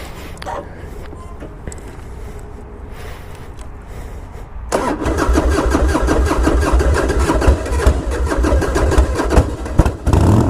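A heavily modified Harley-Davidson Springer motorcycle cranks over and its engine catches around the midpoint, settling into a loud, close, rumbling idle with uneven throttle blips and faint talk in the background.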